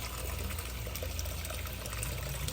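Water in a crayfish pond draining through a bell siphon, a steady rushing gush mixed with a low gurgle, continuous and fairly close, with no talk.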